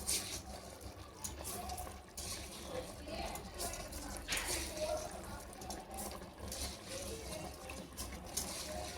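Water poured for biryani rice, a gushing, splashing stream that fills a vessel, rising and falling in strength over several seconds, with a voice talking faintly underneath.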